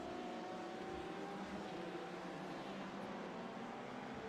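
LMP prototype race cars in a sim racing game at the Nürburgring, heard as a steady, high-pitched engine drone at moderate distance that holds an even level with no distinct pass-by.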